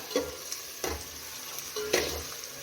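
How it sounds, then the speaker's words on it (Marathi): Onion frying in a pan for masala rice, a soft steady sizzle broken by three or four distinct spoon scrapes and knocks as it is stirred up close. "तर आपला कांदा फ्राय होत आलेला आहे"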